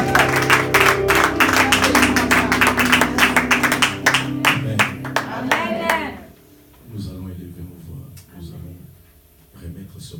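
Church congregation at a Sunday service clapping and cheering in a dense, loud burst of applause with voices crying out, fading after about six seconds into quieter speech and scattered claps.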